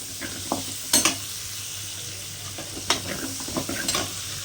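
Pieces of country chicken sauté in a pan for a home-style fry, with a steady sizzle beneath scattered scraping stirs and a few sharp clinks of a utensil against metal, close and fairly quiet.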